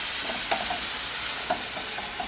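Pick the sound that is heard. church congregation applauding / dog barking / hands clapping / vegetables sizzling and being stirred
vegetables sizzling and being stirred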